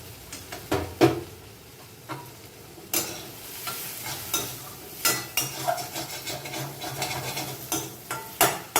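A spoon stirs fried ground spice mixed into a banana-flower cutlet mixture in a pan, with soft sizzling beneath repeated scraping and clinking strokes at close range.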